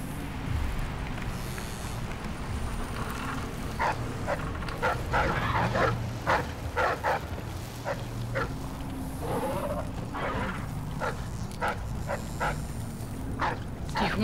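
Dogs bark and yip in short bursts in the video game Dishonored 2, over a steady background hum, fairly close, with brief pauses between barks.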